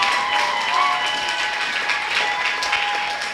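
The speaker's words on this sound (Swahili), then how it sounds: "Pigie Yesu makofi kama unanielewa." A church congregation claps for Jesus during a Swahili sermon, a sustained burst of many hands applauding together, loud and fairly close with crowd noise mixed in.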